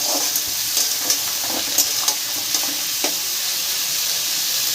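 Cauliflower florets and new potatoes with slit green chillies fry in a pan, a steady close sizzle broken by scraping stirs every half second or so, with no talking.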